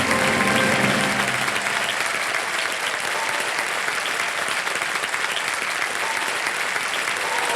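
A television quiz show studio audience breaks into loud, sustained applause that fills the room, with dense clapping continuing evenly throughout and a faint voice underneath at the very start.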